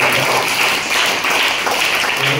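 An audience claps together in a dense, steady wash of applause that holds at even strength throughout, heard at a moderate distance.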